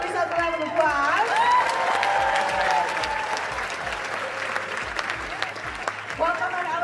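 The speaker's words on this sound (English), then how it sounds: "Give yourselves a round of applause." A sold-out crowd at a film screening gives steady, loud applause with some cheering throughout, and people talk over the clapping.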